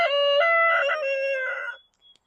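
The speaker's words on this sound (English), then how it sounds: "The roosters decided to chime in." A rooster gives a clear, loud crow lasting under two seconds in a garden setting, its harmonic call rising and trailing off, followed by a faint distant bird note, with no talking.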